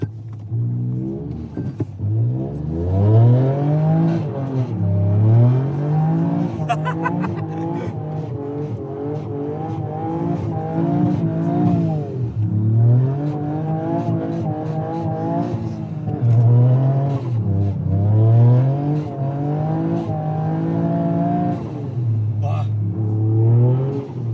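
A Toyota GR Yaris driven hard on snow, its engine revving up and down repeatedly through gears in a rising and falling whine, heard from inside the car while occupants talk excitedly over it.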